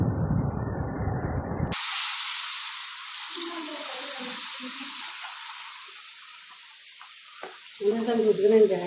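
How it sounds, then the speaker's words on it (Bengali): Oil-fried semolina mixed with milk is stirred in a hot pan, a steady hissing sizzle that starts abruptly after a short different sound, with a brief voice near the end. "সুজি ভাজাই গেলে দুধ দিয়া বালা করে মিশাইলাম।"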